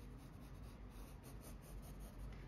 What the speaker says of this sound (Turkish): ben de resmimi ilk önce kağıdıma çizeceğim. Çok bastırmıyoruz bu aşamada.